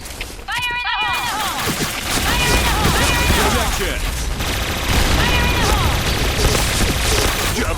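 Dense, continuous gunfire in a Point Blank deathmatch, steady rattling volleys throughout with excited voices calling out over the shooting.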